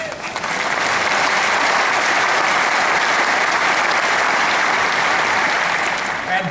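A large convention audience in Sydney applauds loudly and continuously, a dense, even wash of clapping that carries through the whole stretch without pause.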